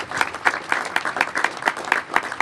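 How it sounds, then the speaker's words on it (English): An outdoor crowd at a Day of Portugal flag raising gives a round of applause: steady, moderately loud clapping with distinct individual claps in a lively rhythm. "Yes, you can give a round of applause."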